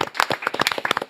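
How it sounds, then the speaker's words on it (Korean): Studio audience on a Korean talk show clapping to welcome a serving military officer as a guest, a brief burst of sharp, close hand claps that rises and falls across about a second, with no talk over it. "따뜻한 박수로 맞이합니다"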